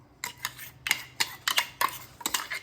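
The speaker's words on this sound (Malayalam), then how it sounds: "മസാല മിക്സിങ് നടക്കുന്നുണ്ട്." Masala being mixed for grilled chicken, with a spoon or utensil clinking and scraping against a bowl in an irregular rhythm of close, sharp taps.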